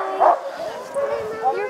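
Sled dogs at a dog-sledding outing in Quebec, Canada bark and yip in short, close bursts throughout, with people talking in the background.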